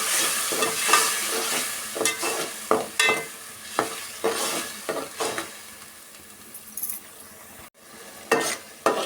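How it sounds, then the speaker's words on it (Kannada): A spoon scrapes and stirs tomato paste frying in ghee in a pan for ghee rice kurma, with close, intermittent scraping strokes over a soft sizzle, brief pauses between them. "ಚೆನ್ನಾಗಿ ಸ್ವಲ್ಪ ಮಿಕ್ಸ್ ಮಾಡ್ಕೊಳ್ಳೋಣ."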